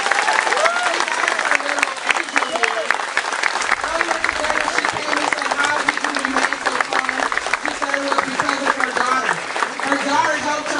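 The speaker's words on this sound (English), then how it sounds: "Let's give Diamond Reynolds another round of applause for her courage." Studio audience applause rings out loudly and steadily throughout, a dense sustained wash of clapping with some crowd noise and voices mixed in.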